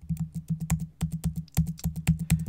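Fast typing on a computer keyboard, a steady run of crisp close key clicks in quick bursts with brief pauses, loud and alone with no talk.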